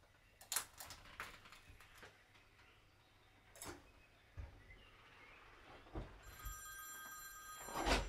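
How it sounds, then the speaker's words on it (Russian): A telephone rings inside a dark house in the evening, faint and somewhat distant, with a quiet indoor room tone and scattered taps and knocks, rising to a brighter, louder ring near the end. "Телефон."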